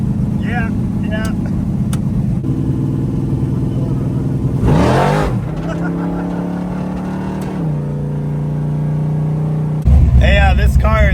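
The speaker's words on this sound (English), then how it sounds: "Did you know this car is loud?" A 1971 Dodge Demon with an automatic transmission, its engine droning loud and steady with a rising rev in the middle, heard from inside the car with people talking over it.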